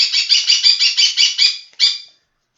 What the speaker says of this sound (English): the bird shrieks some more.